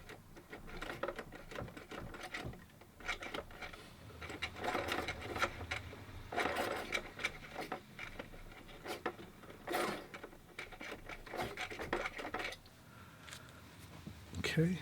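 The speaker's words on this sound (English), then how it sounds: "so I sharpen my pencil" A pencil being sharpened by hand before a watercolor painting, a steady gritty grinding with mechanical clicks that goes on for several seconds, and a person talks in places.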